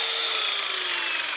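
A multi-material power saw cuts composite wood decking boards with a steady, close, high-pitched whirring rasp throughout, with no talking.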